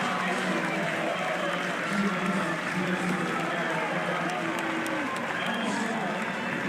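Dense, continuous crowd roar with applause and cheering at a college softball game, Southeastern Louisiana against Alabama in an NCAA regional, sustained at a steady level throughout with no single voice standing out.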